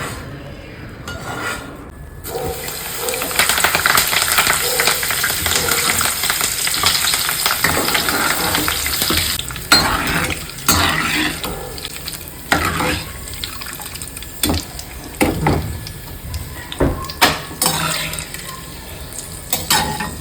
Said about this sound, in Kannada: ಆಮೇಲೆ ಒಗ್ಗರಣೆ ಹಾಕಬೇಕು.